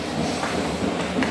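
London Underground Circle Line train rumbling steadily as a close, loud continuous roar with low hum and rattling, no talk over it.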